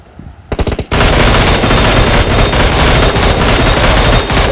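A few quick shots, then sustained dense automatic gunfire roaring loudly and continuously in a battle royale video game scrim, rapid overlapping bursts filling the whole stretch.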